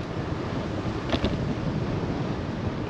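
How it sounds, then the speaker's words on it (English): Wind roars across the microphone of a cyclist pedalling along, a steady loud rushing buffet with a brief sharper gust in the middle. "The wind is kicking me."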